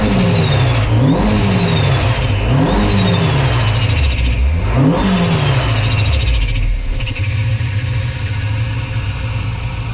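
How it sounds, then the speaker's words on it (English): A 20V swapped turbocharged Toyota MR-S engine runs loud and close, revving up and falling back several times in repeated swells over a steady idle, with turbo whine rising above each rev before settling to a rough idle. "Right, so this is the car running now."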